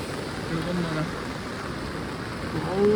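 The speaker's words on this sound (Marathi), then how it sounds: "खतरनाक पाऊस पडतोय, खतरनाक" Heavy monsoon rain pours down beside a swollen river, a steady broadband hiss that stays loud and unbroken throughout, with faint voices murmuring underneath.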